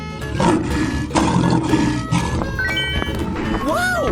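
A lion in a 3D animal sliding video game gives repeated loud roaring bursts over dense game music and effects, with squeaky tonal sound effects near the end.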